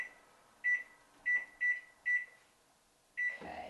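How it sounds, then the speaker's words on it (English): A kitchen timer being set chirps five short, evenly pitched beeps in an irregular rhythm, close and clear in a quiet kitchen, followed by a brief clatter. "I always like to set a timer."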